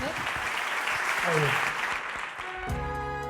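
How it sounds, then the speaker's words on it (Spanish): Studio audience applause on a Spanish literary radio show, dense clapping that runs steadily under talk before a musical jingle cuts in at the end. "Un aplauso enorme."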